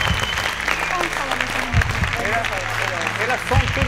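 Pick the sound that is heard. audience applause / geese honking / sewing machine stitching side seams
audience applause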